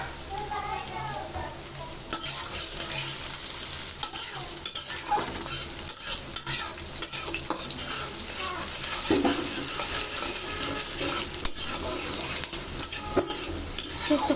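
Sliced onion sizzles and fries in a hot pan, with repeated scraping stirs throughout. The sound is close and steady, with a voice talking over it at times.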